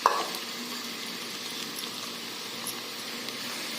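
Millet (bajra) and soaked moong dal khichdi mixture being stirred in a pot, a soft steady sizzling hiss with faint scraping throughout, close and fairly quiet, no voices.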